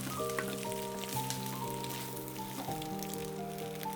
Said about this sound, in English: add the Chinese broccoli in. Stir fry a bit and push it aside